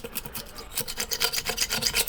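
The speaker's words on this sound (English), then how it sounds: "So I've got myself a plastic razor blade where I can just kind of edge off the" A plastic razor blade scrapes lacquer off a 20-inch Audi RS5 alloy wheel in a home garage, giving quiet, rapid rasping strokes in a steady rhythm, close up with no talking.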